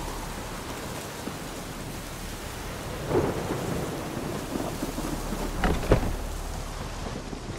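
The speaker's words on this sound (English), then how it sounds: "And it's raining again." In The Witcher 3: Hearts of Stone, heavy rain hisses continuously while low thunder rumbles roll in twice, the second one louder and closer.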